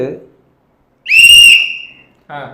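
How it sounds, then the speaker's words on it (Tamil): A single sharp, shrill whistle blast, the morning whistle blown by sanitation workers in Tamil Nadu, held for about a second, loud and close, between brief bits of speech. "இது காலையில் துப்புரவு பணியாளர்கள் ஊதுற விசில்"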